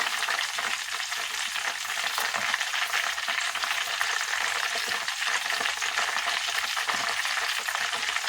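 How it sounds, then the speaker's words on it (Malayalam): Chopped onion fries in a pan, a loud, dense and continuous sizzle that holds steady from start to finish with no voices. "ഉള്ളിയൊക്കെ ഇട്ട് കഴിഞ്ഞാൽ നമുക്ക് ഉള്ളിയുടെ മൂപ്പനുസരിച്ച് പാകമൊക്കെ അറിയാൻ പറ്റും"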